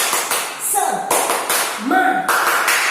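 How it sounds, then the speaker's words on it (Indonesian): An Indonesian children's class cheer, a rhythmic patterned clapping with sharp, close hand strikes in a quick sequence, mixed with voices calling out. "Tepuk semangat"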